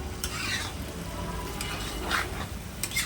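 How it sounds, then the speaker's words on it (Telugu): Chicken curry with ground garam masala stirred in a pan, a steady sizzling hiss with scraping spoon strokes sweeping through, close and continuous with no talk. "ఇలా కలుపుకుంటూ ఉండాలండి, ముక్క అంతా పట్టే వరకు మసాలా."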